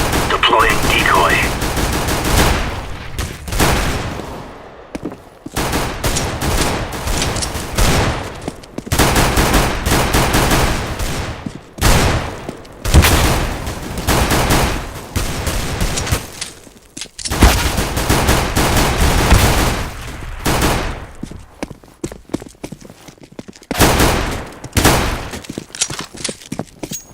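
Rapid bursts of fake gunfire from a decoy grenade in the CS:GO video game, loud and close, in dense volleys with short gaps between them.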